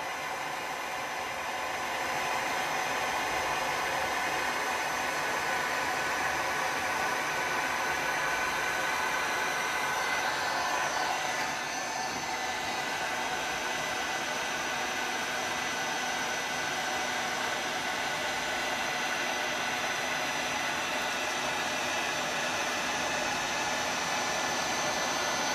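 A heat gun blows steadily on an epoxy resin tray, a continuous broadband hiss of rushing air held close and loud for the whole stretch, with a slight dip partway through.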